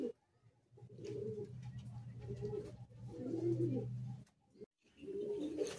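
Madrasi high-flying pigeons coo in bursts inside a loft, several rolling phrases close up separated by brief quiet gaps, with a faint voice at times.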